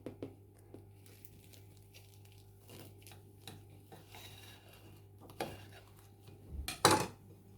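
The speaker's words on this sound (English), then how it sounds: "Let's cut into it. Can you see how crispy that is?" Cutlery cuts into a crispy fried dhal puri on a plate, giving faint scattered scrapes and crackles, with a couple of louder clinks near the end.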